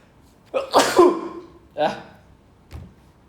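A person sneezes, a sharp loud burst followed by a second weaker burst and a faint third sound, each separated by quiet gaps, close and clear.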